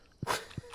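A dog in the Stardew Valley video game gives two short, soft yips a fraction of a second apart, faint and close.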